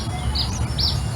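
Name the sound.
birds chirping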